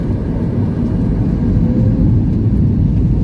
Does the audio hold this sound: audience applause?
no